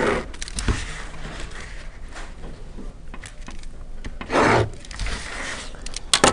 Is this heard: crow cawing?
no